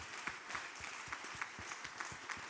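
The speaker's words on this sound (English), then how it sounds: "So a big round of applause." Applause at a conference closing plenary, fairly faint and distant, with individual claps audible in a loose, irregular rhythm.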